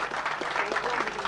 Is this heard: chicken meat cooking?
no